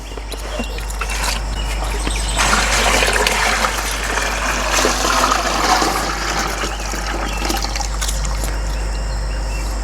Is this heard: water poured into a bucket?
yes